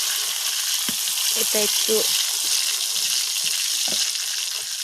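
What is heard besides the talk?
stirring kalonji and greens frying in a pan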